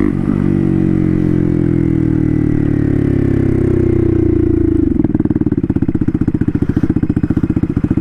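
A turbocharged Honda Grom with a swapped-in CBR engine, a loud steady engine drone that drops in pitch around five seconds and turns into a rapid pulsing chatter as it slows.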